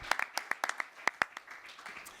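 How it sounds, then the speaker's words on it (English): A small audience at a governor's Metro-North Penn Station Access announcement gives sparse, scattered applause, a handful of distinct sharp claps that thin out over about two seconds. "Let's give him a big round of applause"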